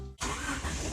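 A cold Honda Civic EF track car engine cranks and catches after a brief hum. It then bursts into a loud, rough idle that stays close and steady to the end.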